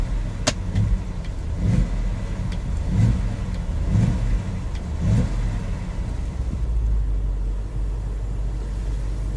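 A BMW engine undergoing VANOS diagnostics revs in a series of about five rhythmic throttle blips, then settles back to a steady idle near the car with no talk.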